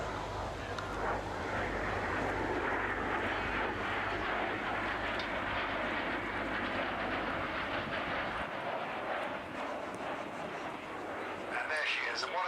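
Aircraft flying overhead at the Abingdon Air & Country Fayre, a steady broad roar of engine noise with wind rumble, holding loud throughout before easing slightly near the end.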